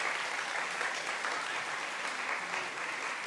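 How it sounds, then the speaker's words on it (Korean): A church congregation applauding to welcome a deaconess forward for her testimony, a dense, steady round of clapping that fills the room without a break. "우리 박수로 맞이하겠습니다."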